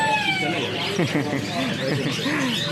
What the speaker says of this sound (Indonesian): Ini burung baru datang ya, baru bongkar, dan burung udah terpantau pada bunyi teman-teman ya